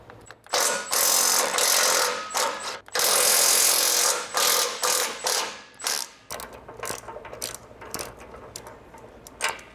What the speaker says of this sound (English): So these 2 14mm here on the cross member, we're gonna go ahead and loosen these.